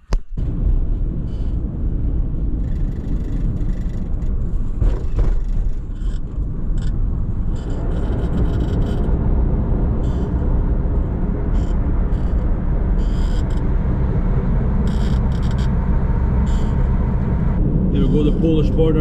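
A car drives along a road in Poland toward the Lithuanian border, its steady engine and tyre rumble loud and continuous throughout, and a person talks over the road noise.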